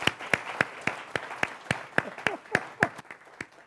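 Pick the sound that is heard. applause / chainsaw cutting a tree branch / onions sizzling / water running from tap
applause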